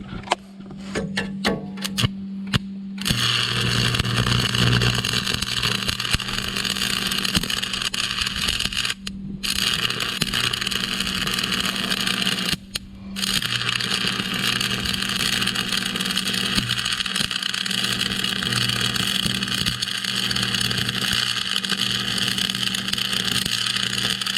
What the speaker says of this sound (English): Now, I'll go ahead and weld this backside since it's down.